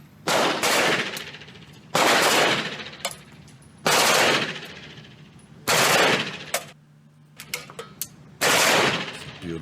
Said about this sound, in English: Here's LeBron James shooting machine guns.